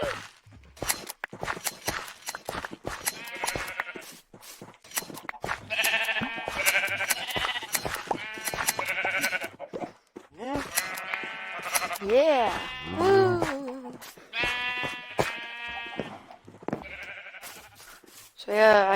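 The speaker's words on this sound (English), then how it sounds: "I have a lot more sheep than I remembered." Sheep in the Minecraft video game bleat repeatedly in short wavering calls, some overlapping, over footstep clicks and other game sounds, and a person talks throughout.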